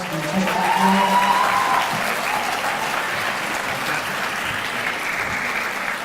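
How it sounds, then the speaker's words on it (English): Sustained applause from an audience at a student recognition ceremony, steady broadband clapping that fills the room, with a brief tonal murmur of voices near the start before settling into even, continuous applause. "one more round of applause"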